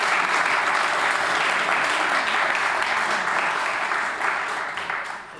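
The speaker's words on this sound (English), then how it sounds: "Yeah, you can applaud." A large audience at a political gathering in Amsterdam claps steadily in a dense, sustained round of applause that fades slightly near the end.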